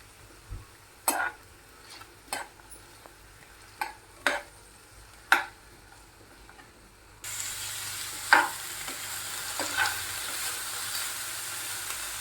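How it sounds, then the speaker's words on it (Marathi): Mixed vegetables frying lightly in oil, a few sharp stirring knocks on the pan before a soft, steady sizzle rises and continues to the end. "सर्व भाज्या तेलामध्ये थोड्याशा फ्राय करून घ्यायच्या"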